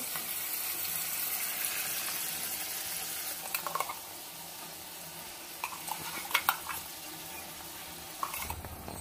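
Spice mix that was fried first goes into a pan of softened tomato and salt for a drumstick and potato curry and is stirred in, with a steady sizzle, a few clinks of the spatula, and a louder scrape near the end.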